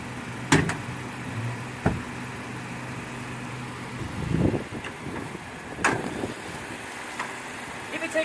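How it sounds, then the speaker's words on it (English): Hood of a 2016 Mazda3 with a SkyActiv engine being popped open: a few sharp clunks and latch knocks spread over several seconds against a low steady background hum, with a voice present. "Let me pop the hood."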